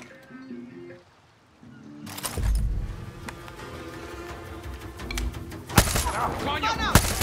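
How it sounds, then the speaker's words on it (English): Gunfire in the video game Far Cry 6: after a quiet moment, a burst of loud sharp shots rings out, with more scattered cracks and a loud report near the end amid background game sounds and voices. "Gunshots."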